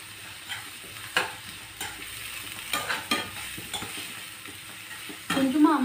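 Tomatoes sautéing in a pan hiss steadily up close, with irregular scraping stirs and occasional metallic clinks of the utensil against the pan.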